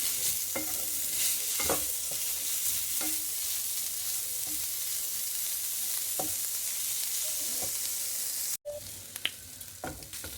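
A spoon stirs fish cutlet filling in a pan with a soft scraping rhythm and faint sizzling frying underneath, one sharp clank near the end, no talking.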